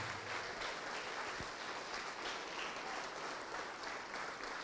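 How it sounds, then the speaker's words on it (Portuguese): Congregation applauding in a church service in praise of Jesus, steady dense clapping throughout, loud and continuous with no voices over it. "vamos aplaudir mais ao nome de Jesus"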